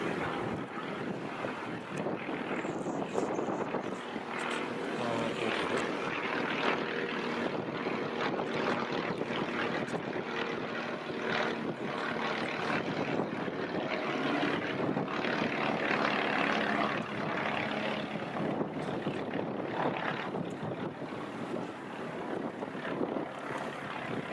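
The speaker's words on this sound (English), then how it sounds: "Oh, the plane's above us." A steady propeller aircraft drone overhead, mixed with gusty wind buffeting the microphone, continuous and fairly loud with no talking.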